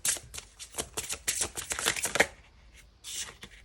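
Tarot cards riffle and snap in quick, close bursts as they are shuffled, followed by a softer pause and another short flurry as cards are drawn; no voices.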